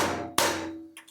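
A hammer strikes buckles on a table, one sharp close impact followed by lighter tapping knocks near the end.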